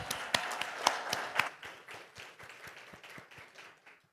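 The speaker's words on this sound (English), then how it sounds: "put your hands in another very well-deserved round of applause" A conference audience at a marketing event in Dubai gives a round of applause, sharp distinct claps that start strong and thin out over a few seconds, fairly quiet and without talk.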